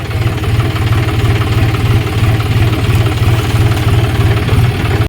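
A tractor engine idles loudly nearby on a farm, a steady low chugging throb that holds evenly for several seconds before cutting off abruptly.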